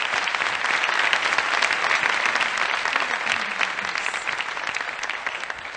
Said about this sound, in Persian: تشویق کنی خانم کنی رو.